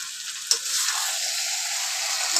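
Potatoes fry for chicken biryani, sizzling in hot oil with a steady, close crackle that carries through the whole moment, broken by one brief utensil tap early on.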